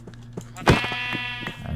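A single sheep in Minecraft with the All the Mods 3 modpack gives one clear, close bleat with a wavering pitch, set against a low game background.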